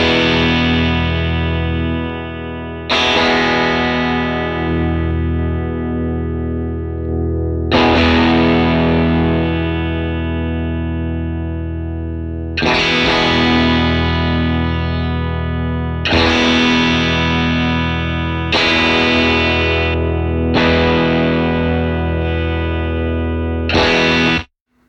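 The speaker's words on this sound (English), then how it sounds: "right now you're hearing the AC30 through both of these IRs" An electric guitar played through a modelled Vox AC30 amp on a Fractal Axe-FX III rings out in loud, driven strummed chords, each left to sustain and decay before the next strike, with no talking.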